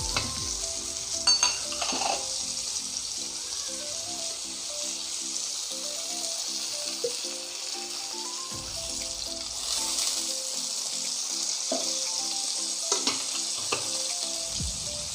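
Pomfret frying in oil in a pan over medium heat for a Malvani paplet fry, giving a steady close sizzle with occasional stirring scrapes and soft background music.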